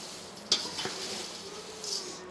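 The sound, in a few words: stirring atukula mixture in hot pan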